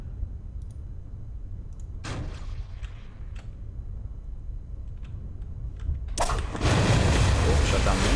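A Terrier rocket engine in Kerbal Space Program roaring to life after quieter clicks and a short burst, ending in a loud, broad, sustained rush as talk carries on under it.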